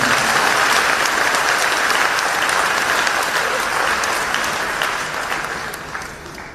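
An audience at a Christian convention applauding and cheering, a loud, dense, continuous wash of clapping that holds steady and gradually tapers toward the end, with no clear talk.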